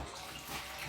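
A child fills a container from a water tap, a short, steady rush of running water, close and fairly loud, with no talk.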